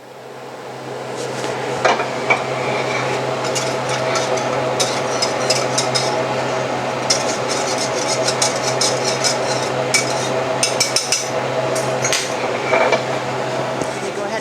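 A pot of lemon sauce is stirred on the stove, with spoon scraping and clinking against the metal in a steady irregular rhythm, close and clear over a low hum of burner or room noise.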